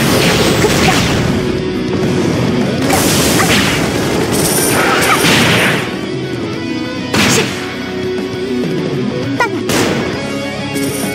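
Artillery bombardment in the Closers video game: repeated loud booming blasts and crashing impacts with whooshes, several bursts spaced over a dense, noisy battle soundscape.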